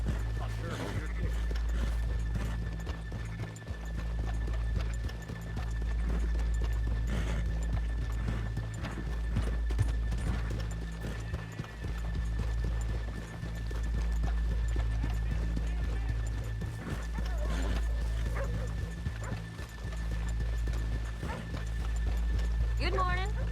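Horse hooves clip-clop in a steady trotting rhythm on a hard surface in Red Dead Redemption 2, with occasional whinnies and talk layered over a low constant hum.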